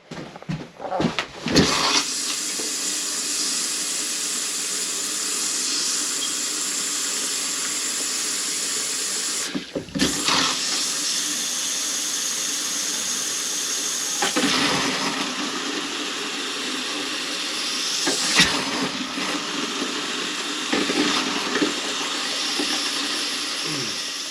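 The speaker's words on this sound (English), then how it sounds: "Now you have to gurgle all that water or all that air through all your lines" Water and air gurgle and hiss through the plumbing lines of a Cougar RV camper being dewinterized to flush out antifreeze, a steady rushing flow with a few sharper bursts and sputters and no talk.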